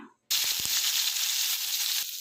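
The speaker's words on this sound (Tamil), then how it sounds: "ஒரு பாத்திரத்தை அடுப்பில் வச்சு கொஞ்சமாக எண்ணெய் ஊற்றிக்கலாம் இப்போ அதில் கொஞ்சம் பச்சை மிளகா சேர்த்துக்கலாம்" A sudden loud sizzle of green chilies hitting a little hot oil in a pan on the stove, steady and bright, with a few faint clinks underneath and no talking.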